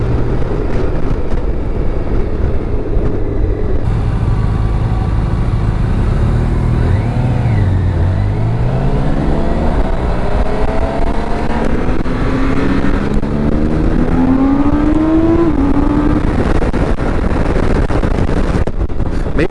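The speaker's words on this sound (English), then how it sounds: "it just sounds quick, I must say, because of the sound that the engine makes." A 2024 BMW K1600GT motorcycle accelerating, a loud continuous engine drone whose pitch climbs through several gears with heavy wind rush over the microphone.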